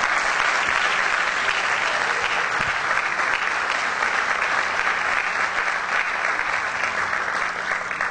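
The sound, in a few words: applause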